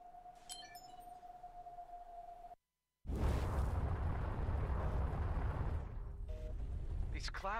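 A space-shooter dogfight in Everspace: after a tonal beep and a sudden cut to silence, a heavy, roaring explosion blooms and rumbles on for several seconds, with a few sharp electronic chirps near the end.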